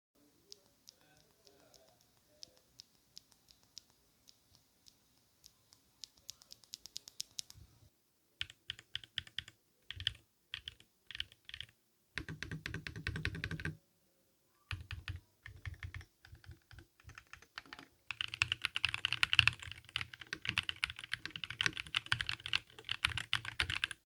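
Typing on a Nano68 Pro mechanical keyboard, close clicky keystrokes at first sparse and hesitant, then coming in quick bursts separated by pauses, ending in a fast continuous flurry.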